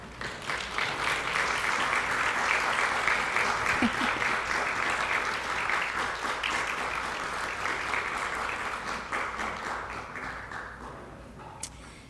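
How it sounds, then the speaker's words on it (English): An audience at an academic symposium gives student presenters and mentors a round of applause, dense clapping that swells early, holds, then gradually thins and fades near the end. "with a round of applause"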